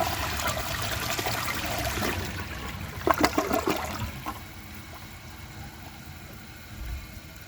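A 2011 Vortens Vienna toilet flushes with a rushing, gurgling surge of water that peaks sharply, then eases into a quieter trickle as the bowl refills, close by and alone.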